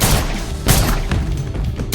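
A volley of gunfire bursts out in an action-film scene, with dense rapid shots and booming thuds packed into a loud, reverberant burst.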